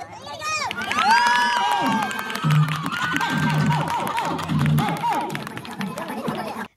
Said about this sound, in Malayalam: നമ്മുടെ നാട്ടിലുള്ള പയ്യന്മാർ ഇറങ്ങിയപ്പോൾ ഒരു ബഹളവും കയ്യടിയൊക്കെയാണ് കണ്ടത്